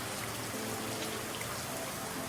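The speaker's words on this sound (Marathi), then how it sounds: "धो धो धो धो असा पाऊस पडलेला पडतोय" Heavy monsoon rain in Lagos, a dense, loud and constant roar of falling water with no breaks, and no voices.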